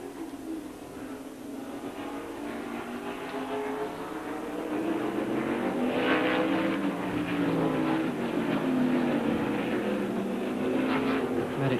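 Racing cars at the 1972 Tasman Series round in Adelaide drone past, including a McLaren 10B, their engines a distant continuous roar that grows gradually louder and rises and falls in pitch.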